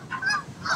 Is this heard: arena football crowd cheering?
no